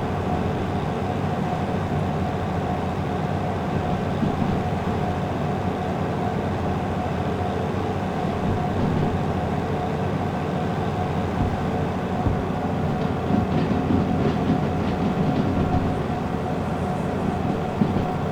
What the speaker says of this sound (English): it's just drive in and let the train reach its destination